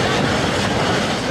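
Narrow gauge steam locomotive hauling a train up a steep grade on a forest railroad, a continuous loud rumbling roar of working engine and rolling cars with no break.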